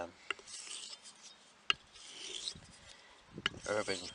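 A Sheffield straight razor strokes across a hone in soft scraping passes, with sharp little clicks between strokes as the blade turns over, close and fairly quiet, with no talk.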